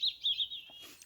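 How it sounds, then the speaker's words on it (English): Birds sing in a Scottish forest at a wild camping spot, a few short high chirps in quick succession followed by a faint trailing call, close and clear with no talk. "all you can hear is the birds"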